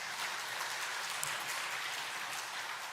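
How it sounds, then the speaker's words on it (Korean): A church congregation at a Sunday morning service applauds together in a steady, even wash of clapping that holds at moderate loudness without talk. "자, 박수 한번 주시죠."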